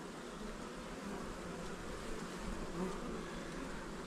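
Honeybees hum in an open hive while a nuc is merged into an existing colony, a steady close buzzing drone with no voices.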